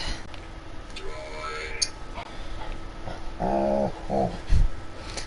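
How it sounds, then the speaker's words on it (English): A dog whimpers and yelps in a few tonal bursts in the background, with one sharper bark-like burst, under continuous talking by a person indoors. "You can hear my crazy dog in the background."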